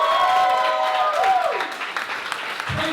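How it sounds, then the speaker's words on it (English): An audience at a stand-up comedy show breaks into clapping and cheering for comic Luke Smith, a dense roar of applause and crowd noise that fades slightly toward the end. "If you can laugh heartily and clap loudly for Mr. Luke Smith"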